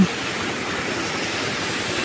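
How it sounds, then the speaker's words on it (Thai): A small waterfall high on Hala mountain pours in a steady, broadband rush of falling water, close and loud, with no voices. "น้ำตกเล็กๆ บนเขาฮาลาน"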